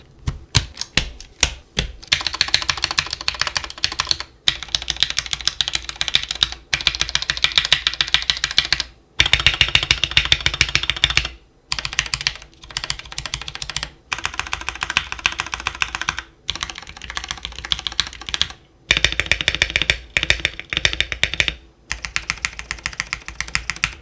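Rapid typing on a Ducky One 3 Mini mechanical keyboard with stabilizers: a dense stream of close, crisp key clacks in bursts separated by brief pauses, heard alone without any voices.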